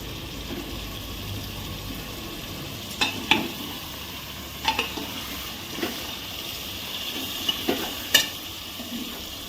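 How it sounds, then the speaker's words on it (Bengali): Onion, ground spices and meat are stirred and fried in a pan, with a low continuous sizzle and a few sharp scrapes and clinks of the spoon against the pan at irregular intervals, close by. "মোটামুটি কষা হয়ে গেছে এবার মাংসটা দিতে দিতে আর একটু কষতে হবে"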